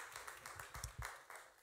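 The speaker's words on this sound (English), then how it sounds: "I want to clap for her." Short, faint burst of hands clapping from a church congregation, a handful of uneven claps over under two seconds, quiet and somewhat distant.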